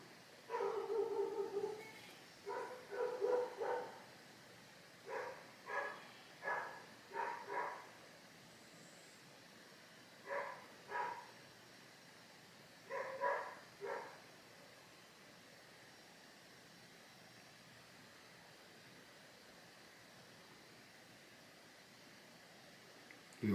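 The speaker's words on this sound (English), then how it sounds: "do you hear the dogs barking?" Distant dogs barking in short clustered bursts of two to four barks, repeating irregularly over a quiet background with long gaps and no talk over them.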